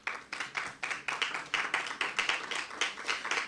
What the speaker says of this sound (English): that deserves a round of applause from you who are here today